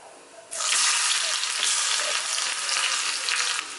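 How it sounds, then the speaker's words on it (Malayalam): Shallots added to hot coconut oil with popped mustard seeds, for a drumstick and kudampuli curry. A quiet hiss bursts into a loud, dense sizzle that holds steady up close, then eases slightly at the end. "കടുക് ഒന്ന് പൊട്ടി വരുമ്പോൾ ഇതിലേക്ക് ചുവന്നുള്ളി ചേർത്ത് കൊടുക്കാം."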